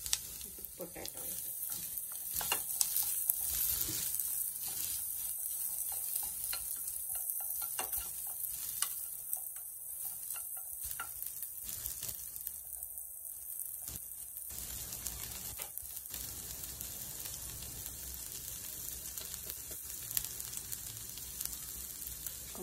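Potatoes frying in butter with chilies and garlic pieces give a continuous close sizzle, broken by scraping stirs of a spatula in the pan throughout, with no talking.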